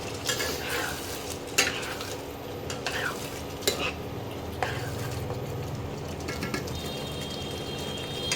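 Mutton pieces are stir-fried in a pan with a continuous sizzle, while a utensil scrapes and clanks against the metal in irregular strokes close by; no one speaks.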